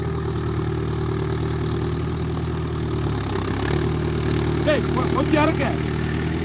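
A farm vehicle engine idles steadily in a paddy field, a continuous low rumbling drone heard close throughout, while someone talks over it.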